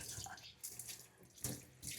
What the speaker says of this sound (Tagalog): ganun lang kadali maghugas ng mga pinagamitan